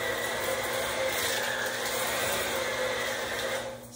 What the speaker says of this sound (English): I'm using a hand mixer.